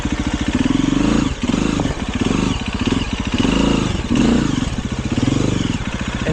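KTM enduro motorcycle ridden off-road, its engine buzzing loud and close with rapid pulsing revs that rise and dip in repeated surges, brief throttle cuts between bursts and faint clatter.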